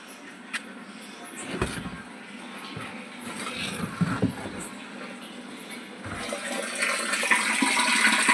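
Water runs steadily into a large water tank on a farm at night, a continuous rushing hiss that builds slightly louder toward the end, with a few faint knocks and clatters along the way.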